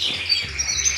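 Several small birds chirp and tweet in quick, overlapping high calls, close by, with a low indoor hum underneath.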